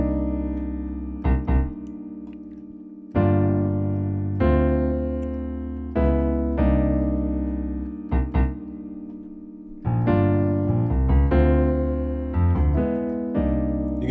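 Piano plays the looping chord progression of a song, sustained chords struck in a smooth repeating pattern, close and clear with no talking.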